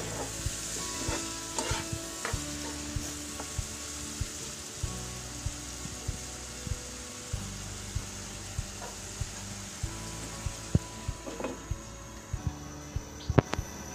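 Ground spices, chopped green chili and four cloves of minced garlic sizzle steadily in a pan while a spoon scrapes and stirs in repeated rhythmic strokes, close and continuous, with no talking.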